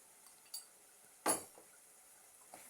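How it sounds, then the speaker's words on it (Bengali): A spoon scraping and clinking against a cooking pot while tomato curry is stirred, three separate faint clinks with one louder scrape near the middle, spaced out in a quiet kitchen. "একটু নেড়ে চেড়ে দিচ্ছি।"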